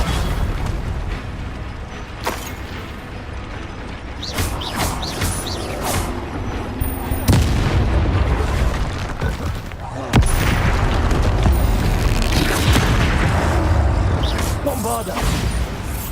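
Bombarda explosion spell cast in the video game Hogwarts Legacy, heavy booming blasts and bursts recurring over a dense game soundscape of rumbling effects and creaks, with a voice speaking at moments.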